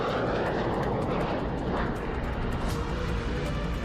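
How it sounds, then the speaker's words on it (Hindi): A Russian Tu-160 bomber in flight, a dense, continuous roar of jet engines that stays loud and steady throughout. "बाल्टिक इलाके में उनके ये विमान लगातार उड़ान भरते रहते हैं।"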